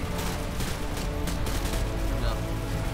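Rapid machine gun fire in Call of Duty rattles on without pause inside a thick, loud battlefield din, with someone talking over it.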